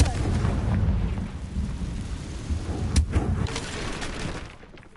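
Confringo spell blast in Hogwarts Legacy, a loud, deep rumbling explosion with a sharp crack near the middle, fading into a low roar.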